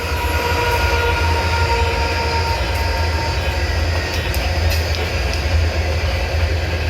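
A freight train with DPU locomotives rolls steadily past on the tracks at close range, a continuous loud rumble of wheels and engine drone with faint metallic squeal on top.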